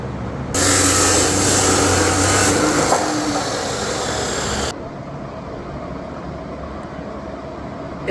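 Power tool cutting stainless-steel exhaust tubing in a hot shop, loud and steady for about four seconds, then cutting off to a quieter background hum.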